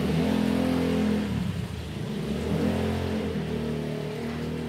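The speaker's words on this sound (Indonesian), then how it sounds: "Beberapa kendaraan lewat dari depan rumah." Vehicles driving past in front of a house, a loud engine rumble that eases off after the first second, then a steady whir as traffic moves by, with no voices.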